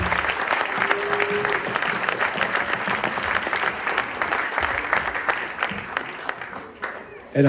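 A concert audience in Euville Carrières applauds: a continuous crowd clapping with individual sharp claps standing out, moderately loud, with a voice occasionally audible over it.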